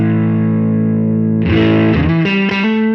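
A heavily distorted electric guitar through Tonex presets with boosted low mids giving a thick, boxy midrange, sustained chord followed by a few more struck chords, loud and upfront.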